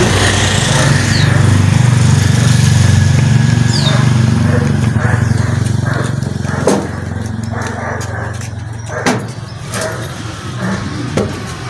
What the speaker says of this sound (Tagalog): Diri namin sa aming motor.